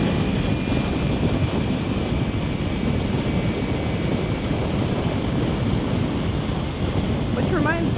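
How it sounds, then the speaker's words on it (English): Strong wind roars and buffets continuously against the microphone of a rider on a motorcycle, a dense broadband rush with no letup. "It's a little windy outside."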